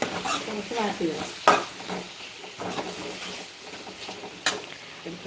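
Crushed ginger and garlic fry in a pan for a curry, a steady close sizzle broken by several louder scrapes and stirs of a spoon against the metal.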